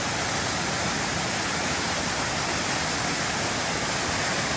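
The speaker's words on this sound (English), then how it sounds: "There's a beauty little waterfall." A small waterfall rushing steadily, a constant broadband roar of falling water with no pauses, close and fairly loud.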